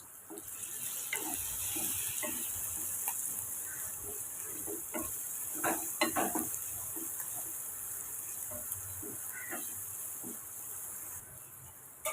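Ingredients sautéing with salt in a pan while preparing a quick breakfast of vermicelli, a quiet steady sizzle and hiss with scattered scraping and stirring clicks.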